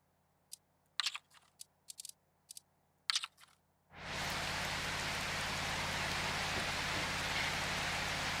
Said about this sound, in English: the water effects, the rain effects, they're really hammering me